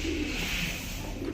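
Pigeons coo softly at a feeding spot, low throaty calls rolling gently over a steady background hum, close but not loud.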